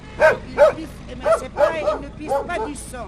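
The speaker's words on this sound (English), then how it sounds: "stray dogs and cats come running after her" Stray dogs on a roadside in Rabat bark and yip in a burst of about seven close, sharp barks, with some whimpering and faint background chatter.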